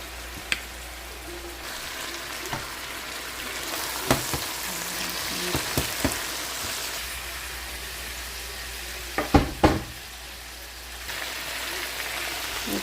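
Garden vegetables fry in a pan with ketchup and barbecue sauce, a steady close sizzle broken by scattered clinks and stirring scrapes, busiest near the end.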